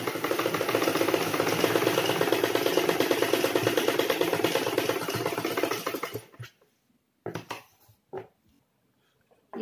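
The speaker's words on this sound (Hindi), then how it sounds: "नीचे वाली पट्टी और सिलाई को कंप्लीट कर लेंगे ऊपर तक" A sewing machine stitches a kurta placket in a steady, continuous run for about six seconds, then stops, leaving a few short clicks and handling bumps in a quiet room.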